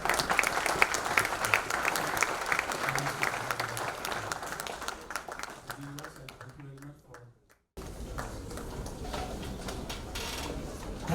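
Audience applause at a medical conference, sustained clapping from a crowd that thins out, then a cut to a quieter room with a faint murmur.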